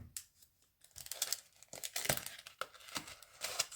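Sheets of winter snow scene stickers pulled out of a plastic packet, close crinkling and rustling in irregular bursts after a brief quiet start, with no talk.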